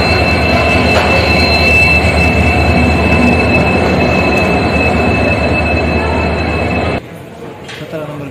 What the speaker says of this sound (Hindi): अभी ट्रेन आ रही है हमारी